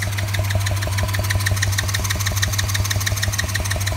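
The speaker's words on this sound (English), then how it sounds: "I'm gonna stop cranking this before I kill the starter." An electric starter cranks a Chinese quad engine without it catching, a close, steady rapid chugging whir with a low hum underneath, running unbroken throughout.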